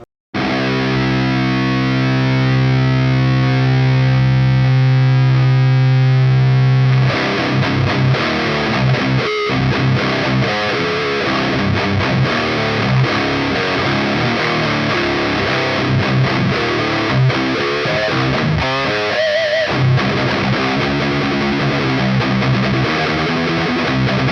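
A distorted electric guitar played through a Baghdad preamp pedal rings out in sustained, overdriven chords, then moves into choppier riffing with brief pauses, loud and close with no talking.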